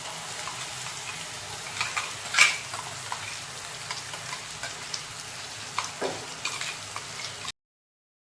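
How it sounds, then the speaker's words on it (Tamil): Steady sizzling and frying of onions and paste sautéing in a pan, with occasional scraping stirs and light ticks, close and continuous before cutting to silence. "அடுத்து நெக்ஸ்ட் அந்த பேஸ்ட் ஆட் பண்ணிவிட்டு நல்லா வதக்கணும்."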